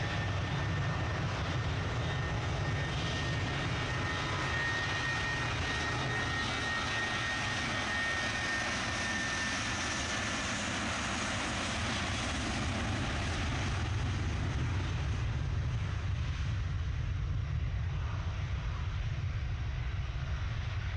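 A jet airliner takes off from runway 23 left at Manchester Airport, its engines roaring as a steady, loud broadband rumble with a thin high whine that holds throughout and swells slightly before slowly fading.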